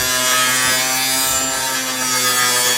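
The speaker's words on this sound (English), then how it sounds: "diamond blade in his grinder" A battery angle grinder with a diamond blade cuts through profile sheeting, producing a loud, continuous, close-up grinding screech with a constant pitch and no pauses.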